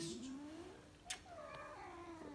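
A cat makes strange, eerie drawn-out yowling noises, wavering low caterwauls that rise and bend, heard close but faint, with a brief sharp sound in the middle and no talk.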